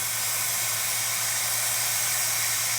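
Steam wand on a Breville Barista Express espresso machine blasts a continuous, even hiss at moderate level, broad and airy with no pauses or talk.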